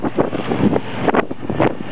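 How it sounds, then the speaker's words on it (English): Strong desert wind buffeting a microphone in gusty, roaring bursts, loud and close, with no talk over it. "as you can see, it's very windy"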